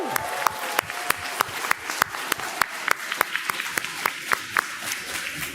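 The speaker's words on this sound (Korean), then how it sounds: "함성과 박수로 하나님께 영광 돌리겠습니다." Church congregation cheering and clapping at a Christmas worship service, with a thin crowd wash and distinct individual claps that sharpen into a rhythmic beat toward the end.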